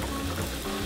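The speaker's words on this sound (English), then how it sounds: "The oil is hot, and I'm just going to put this in, and you will hear the sizzling" Steady, close sizzling and crackling of Italian dough frying in hot oil, continuous with no talking.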